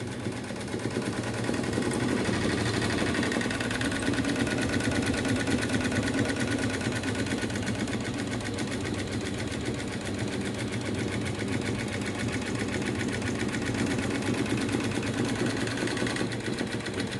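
A sewing machine stitches a bridal blouse in a steady, continuous mechanical whir with rapid needle chatter, loud and close, running alone without pause for the full length.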